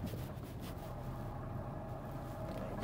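A Fiat Argo Trekking 2020 with the 1.3 FireFly engine pulls in fourth gear on the road, giving a steady, low, even engine drone with road and wind rush and no voices.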